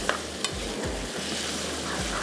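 Mutton pieces sizzling in hot oil while being stirred and browned for Sindhi seyal gosht, a steady close-up frying hiss with a few light scrape and clink accents, no talking.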